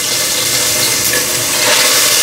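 Beef chunks for a fall beef stew sear in a hot pan, a loud, steady sizzle with crackling spatter that swells slightly as the meat goes in, with no talking.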